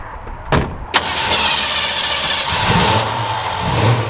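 A 1968 Mustang classic muscle car's engine sits in a steady mid-pitched idle, close and fairly loud, after two sharp knocks near the start, with no talking.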